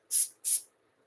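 A dragon-themed spray bottle of energy-clearing mist gives two quick, close, hissing sprays in rapid succession, then falls silent.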